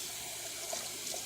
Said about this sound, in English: the first thing you do is you put your water in